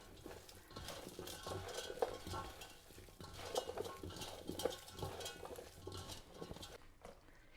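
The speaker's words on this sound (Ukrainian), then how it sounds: "Саме краще, мабуть, перемішується це руками." Seasoned meat pieces with salt and pepper being mixed by hand for homemade saltison: faint, soft, irregular squelching and patting, close by and quiet, with no other sound over it.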